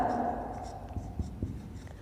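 Marker or chalk scratches on a classroom board in a few short strokes near the end, quiet and close, after a moment of lecture speech.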